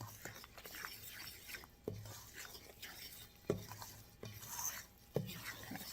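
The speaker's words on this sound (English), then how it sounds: "I'm going to use a fork just so it kind of" A fork stirs a soft homemade playdough mixture in a bowl, giving scraping, clinking strokes against the sides at a steady, unhurried pace, close and fairly quiet.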